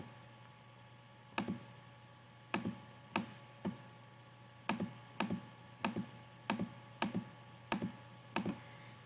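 Calculator buttons pressed to key in an inverse sine calculation: a run of about a dozen sharp, close, fairly quiet clicks in an uneven tapping rhythm over a steady low hum.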